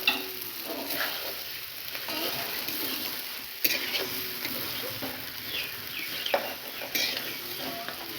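A spoon stirs fried soybean chunks and potatoes with spices in a pan, giving steady sizzling with repeated scraping strokes and occasional metal knocks, close and continuous.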